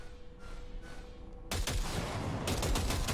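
Bursts of automatic gunfire from a weapon in the video game Cyberpunk 2077 start abruptly after a quiet stretch, then rattle on loudly with rapid, close shots and no talking.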